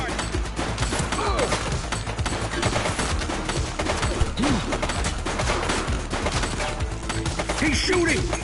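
Gunfire in a police video game, dense rapid bursts of shots and impacts crackling loudly and continuously, with occasional voices mixed in.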